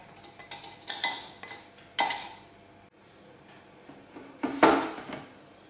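Peach cake batter mixed in a bowl with a utensil, giving light clinks and scraping strokes in a few louder bursts separated by quieter stirring, with no talking.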